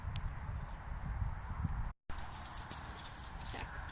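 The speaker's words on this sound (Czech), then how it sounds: "To je můj kůň, bez ohlávky a takhle trénujeme naše chození." A horse walking without a halter makes soft, steady hoof clip-clops, faint and continuous, with a brief dropout midway.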